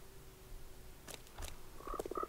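Frogs croak nearby with short, throaty pulsing calls that come in bursts toward the end over faint outdoor background noise, with nobody talking.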